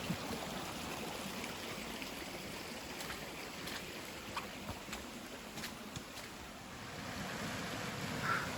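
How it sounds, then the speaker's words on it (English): Small waterfall stream on the Pine Mountain Trail in FDR State Park, Georgia, a steady broadband rush of falling water with no pauses, moderately loud and close throughout. "This is the first in a series of little waterfalls on the Pine Mountain Trail"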